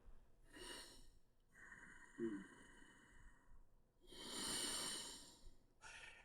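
Slow, deep breaths rasp at the back of the throat, a few long inhales and exhales with short pauses between, close and fairly quiet.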